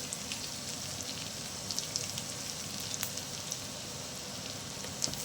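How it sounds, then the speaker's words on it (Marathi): Garlic and ginger frying in two spoons of oil with cumin, mustard seed and asafoetida, a steady soft crackling sizzle with scattered small pops throughout, no voices. "दोन चमचे तेल घालून थोडंसं लसूण घालणार आहेत अद्रक"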